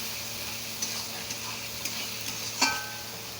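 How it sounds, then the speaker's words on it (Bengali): Potatoes sautéing with spices and salt in a pan for a fish curry, a quiet steady sizzle punctuated by a few soft stirring taps and one sharper scrape of the spoon, no voices. "লবণটা দিয়েও একটু ভালো করে কষিয়ে নেব আলুর সঙ্গে"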